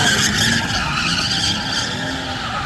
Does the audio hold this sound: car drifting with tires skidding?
yes